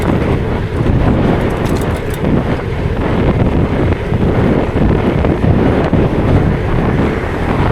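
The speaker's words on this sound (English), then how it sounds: "Very windy." Strong wind roars and buffets across the microphone without pause, a loud, constant rushing noise with no voices.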